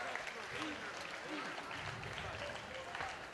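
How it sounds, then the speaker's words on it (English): A crowd at a boxing event at the Barnsley Metrodome applauds both fighters after the decision, continuous clapping spread across the hall with indistinct voices and a few shouts mixed underneath. "big round of applause please for both fighters."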